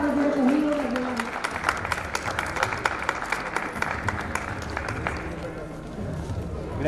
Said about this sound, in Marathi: अभिनंदन. जोरदार टाळ्यांमध्ये